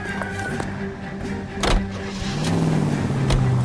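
A 1940s car in L.A. Noire with a door thunk, an engine catching, and then a rising motor hum as it pulls away close by, alone without talk.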